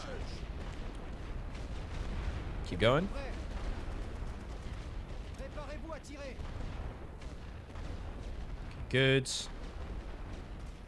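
Cannon and artillery fire in a Great War Western Front trench-warfare strategy game booms twice as heavy, sudden blasts over a constant rumbling battlefield din, while someone speaks briefly.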